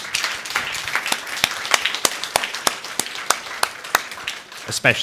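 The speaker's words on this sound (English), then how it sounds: "So if we can do a massive round of applause for our panel today" An audience at an Arctic jobs side event claps for a panel, a fairly sparse, uneven patter of individual claps rather than a dense roar, fading in and out over several seconds.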